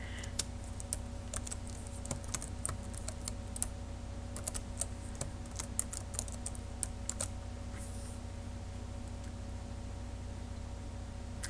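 C++ code for a tic-tac-toe programming project being typed on a computer keyboard, a steady stream of quiet close clicks over a constant low hum, no one speaking.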